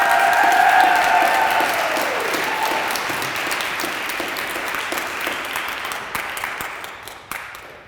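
An audience breaks into loud applause to welcome a student giving a senior speech, a dense burst of clapping that peaks early and then slowly thins and fades over several seconds.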